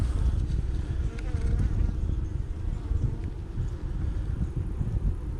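Honeybees hum in a dense, low, continuous drone while a beehive is opened for inspection, with some wind buffeting the microphone and no talking.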